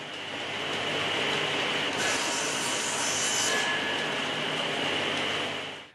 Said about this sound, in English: a plane and a saw cut these nearly finished laminated beams down to the desired length